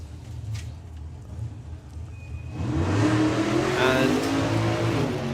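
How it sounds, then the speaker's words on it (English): A stick-shift drag race car at a nostalgia drag racing event revs up hard and accelerates with a rising roar after a quieter stretch of engine idle, loud and close. "it sounds like it's a stick shift car as well"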